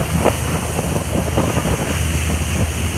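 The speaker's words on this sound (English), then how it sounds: "I apologize for the wind, if there's a wind noise." Gusts of wind buffet the microphone in low rumbling bursts aboard a dive boat off Chichijima in Japan's Ogasawara Islands, with a faint wash of sea water in the background.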